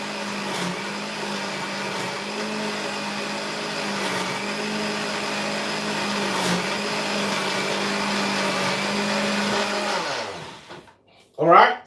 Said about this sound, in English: checking to make sure my blender is all tight